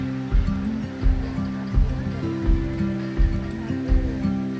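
A river flows beside a cool highland campground in Ciwidey, Bandung, producing a continuous rushing wash of water close by. Low rhythmic thumps recur about every 0.7 seconds beneath the flow.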